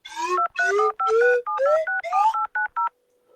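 A telephone keypad is dialed, sounding about nine clear two-tone beeps in a quick, slightly uneven sequence, each press distinct and close, with no voices.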